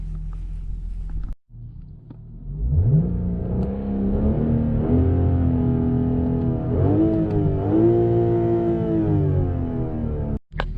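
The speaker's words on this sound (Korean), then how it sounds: "방금 배기음을 들려드렸지만" A BMW 840i Gran Coupe's engine revs through its exhaust, a loud, close, sustained roar that climbs in pitch and then rises and falls over several seconds, framed by brief silences at each end.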